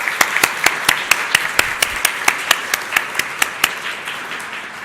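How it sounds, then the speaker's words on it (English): An audience at a university library evening lecture applauds steadily for several seconds, a dense wash of clapping with sharp individual claps standing out in a regular rhythm. "So join me, please, in a round of applause and appreciation for our friends and all of our sponsors"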